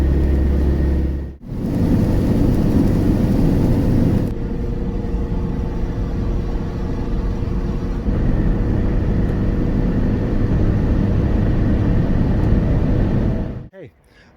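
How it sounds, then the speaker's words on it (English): A gunmetal grey Rover 45 drives uphill at about 45 mph, its engine giving a steady, loud drone with road rumble that holds almost unbroken throughout. "now I'm stuck to about 45 miles per hour again, trying to go up a hill"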